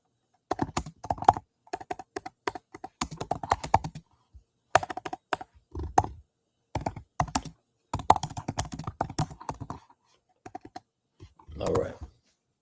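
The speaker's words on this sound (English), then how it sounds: "Now, I'm typing in something," Typing on a computer keyboard: irregular bursts of clacking keystrokes come in quick runs separated by brief pauses, fairly close and clear, with no talking.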